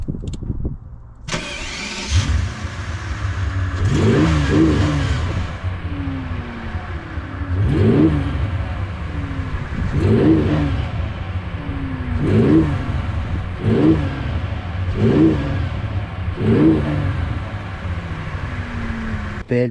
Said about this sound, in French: Belle petite baguette V12 Mercedes.